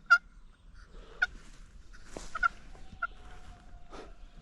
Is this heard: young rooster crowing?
yes